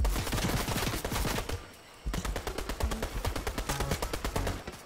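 Rapid bursts of automatic gunfire from the video game Fortnite, loud and close, in two dense volleys separated by a brief pause.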